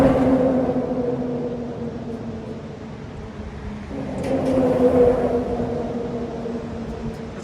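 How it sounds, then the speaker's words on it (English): Road traffic passes beside Gorge Creek Falls in the North Cascades, a vehicle's engine drone swelling and fading over a constant rushing background. "it's right by the side of the road, so you hear a lot of road traffic"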